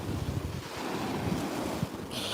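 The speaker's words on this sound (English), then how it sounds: "Oh, big old waves coming in right now." Ocean waves wash in on a winter shore near Seattle, a steady rushing surf with gusty wind buffeting the microphone, loud and close, with a brief hiss of spray at the end.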